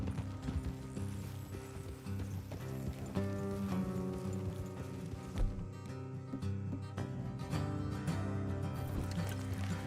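Horses' hooves clip-clopping along a road in the video game Red Dead Redemption 2, a steady rhythmic beat running under a thick bed of background music.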